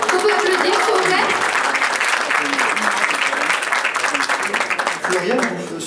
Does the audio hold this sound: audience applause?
yes